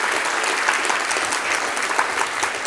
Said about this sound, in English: I think everybody should give them a huge round of applause.